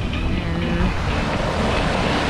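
Ocean waves surging and breaking on the shore near the Burj Al Arab in Dubai, a steady loud wash of surf with wind buffeting the microphone throughout.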